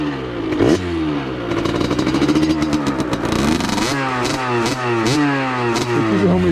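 A Vent DR70 motorcycle fitted with a Giannelli expansion chamber and DBR exhaust silencer, ridden at night with loud, close engine revs that rise and drop repeatedly through gear changes.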